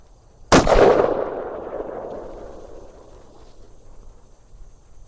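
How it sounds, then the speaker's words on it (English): A single heavy boom from a Magnum Research BFR revolver firing .500 S&W Magnum, loud and close, its blast rolling and decaying for several seconds into quiet afterward. "First time shooting the Smith & Wesson 500 Magnum."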